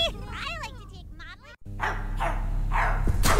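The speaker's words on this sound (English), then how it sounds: "Oh, I forgot about the dog." A dog in the My Friendly Neighborhood video game barks and yips in several loud, close bursts with whimpering, harsh growly tones, over a heavy low background rumble.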